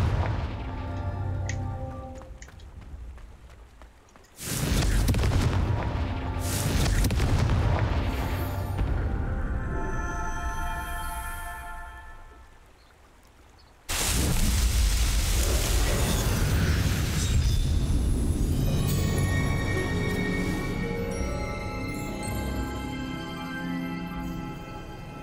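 Confringo explosive spell blasts in Hogwarts Legacy, two loud sudden bursts that each swell into long roaring, crackling rumbles, separated by a brief quieter stretch, over steady game ambience.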